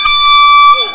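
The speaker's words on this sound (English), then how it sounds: "No air horns this week." A loud, sustained air horn blast at an indoor gathering holds one steady, bright, harmonic-rich tone for most of a second before it trails off abruptly.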